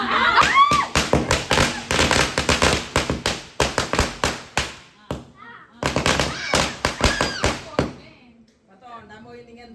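Rapid bursts of firecrackers during Vishu celebrations, crackling and popping in long loud volleys, a short pause, then another string before fading to quiet.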